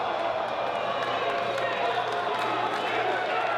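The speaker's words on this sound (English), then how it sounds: "And like a roar, this crowd has just come to life seeing that." A wrestling arena crowd roars and cheers in a dense, continuous wash of noise during a women's championship match.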